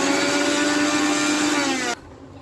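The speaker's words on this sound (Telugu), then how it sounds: "మిక్సీ పట్టుకోవాలి." Mixer grinder whirring steadily while blending gongura leaves, sesame seeds, salt and cumin into chutney, a loud continuous motor drone with sustained harmonic whine that cuts off abruptly near the end.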